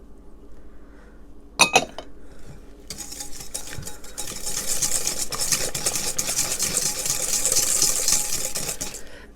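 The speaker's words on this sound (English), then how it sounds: "Now we're going to whisk in our sugar and our melted butter." Sugar and melted butter whisked together in a bowl for Moroccan fekkas dough, a sharp clink followed by rapid continuous metallic whisk strokes that grow steadily busier, close and without talk.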